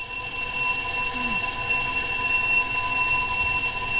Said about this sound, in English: Sounds like we have a fire alarm, people.